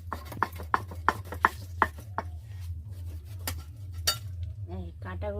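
A knife cuts the fins and spines off a bhetki fish, giving a run of sharp, evenly spaced chopping taps against a board over a low hum, then scraping and a few clinks.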